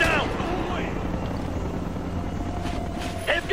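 In the Xbox 360 shooter Ghost Recon: Future Soldier, a helicopter approaches with a constant loud rotor drone filling the scene, mixed with combat noise and brief shouted voices.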